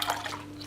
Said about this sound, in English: we're gonna start with some cranberry juice. So I'm gonna pour this into a pan